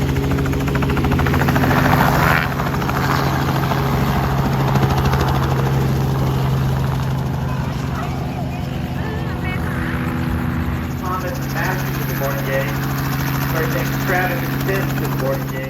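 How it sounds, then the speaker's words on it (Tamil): A helicopter's engine and rotor drone loudly and steadily nearby during a passenger ride in the USA, with a low throbbing hum and voices talking over it. "Helicopter ரைடுக்கு ready?"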